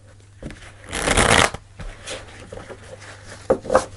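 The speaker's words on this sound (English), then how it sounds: "One more shuffle." A deck of tarot cards is shuffled in one quick riffling burst, followed by softer card handling and a couple of taps, close and crisp.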